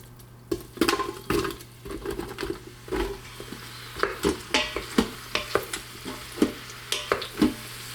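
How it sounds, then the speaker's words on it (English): Mushrooms sautéing in melted butter in an Instant Pot, a soft sizzle under irregular stirring scrapes and clinks of a utensil against the pot, close and fairly quiet. "saute the mushrooms in the butter for about 3 minutes until they soften"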